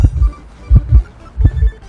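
Heartbeat in the horror game Identity V, loud close double thumps repeating roughly every 0.7 seconds, deep and muffled, with faint background tones and no talking.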